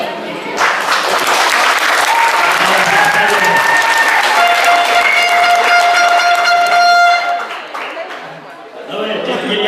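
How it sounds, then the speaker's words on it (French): A crowd in a hall at a 2016 youth football tournament event bursts into loud, sustained applause mixed with cheering, air horns and whistle-like tones, fading near the end as talk takes over. "Est-ce que je peux voir un peu comment est-ce que dans cette salle on fait applaudir?"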